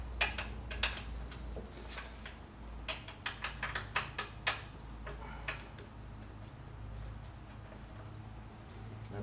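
Bolts being started by hand into the rear shock mount of a Corvette C4: a run of small, quiet metallic ticks and clicks, irregular and close, clustered in the middle, with a low background hum.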